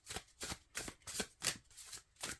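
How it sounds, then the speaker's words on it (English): A deck of thin tarot cards is overhand shuffled in soft, rhythmic swishing strokes, about eight quick riffling bursts at a steady pace, close and quiet with no talking. "They're even bending in my hands as I'm shuffling."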